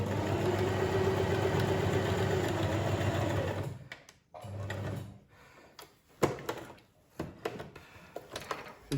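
A sewing machine backstitches a ribbon onto a fabric protective mask, whirring steadily for about four seconds up close, then stopping and restarting in short bursts among clicks and handling noises.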